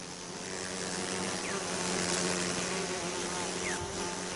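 Assam killer bees swarm with a steady, dense buzz filling the air, loud and close, with a few individual insects whining past amid the drone; no voices.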